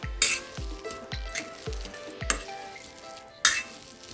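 Avocado and chickpeas are mashed for a sandwich filling, heard as a steady run of close, squishy thuds and light clinks of utensil on bowl, repeating about twice a second, then a final sharper knock.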